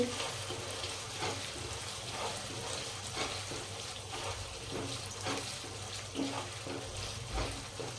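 Usal cooking in tomato gravy with turmeric is stirred in a pan, giving a steady close sizzle with repeated soft scrapes and stirring sweeps throughout.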